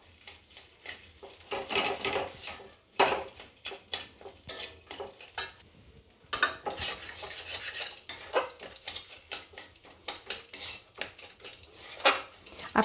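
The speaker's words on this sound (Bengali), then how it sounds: "এখন আমি সবটাই ভালোভাবে নাড়াচাড়া করে ভেজে নেব" Crushed peanuts stirred and fried in oil in a pan, a spatula scraping and clanking rhythmically against the metal over a continuous sizzle.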